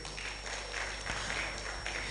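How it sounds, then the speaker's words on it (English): Audience applause at an LCCI small-business bootcamp event, a steady, dense wash of many hands clapping continuously with no clear breaks. "Please clap for Keystone Bank again"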